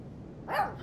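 A young female puppy gives a single short, sharp bark during a training session inside an abandoned house, brief and fairly close against a quiet room.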